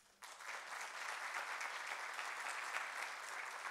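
Audience applause for a speaker at a labor law conference in Puerto Montt, a steady, even round of clapping that starts suddenly and continues without talk, moderately distant.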